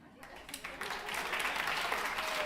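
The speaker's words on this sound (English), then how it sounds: "Well, now you get to clap again." A church congregation at Unity of Santa Barbara breaks into clapping that swells from scattered claps into steady, fairly faint applause, with some voices beneath it.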